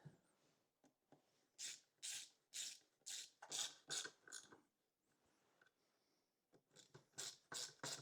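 A ratchet on a 1/4-inch extension snugging the bar stud bolts on a Homelite Super 2 SL chainsaw, a series of quick, close clicking bursts, then a pause and another run of clicks, fairly quiet.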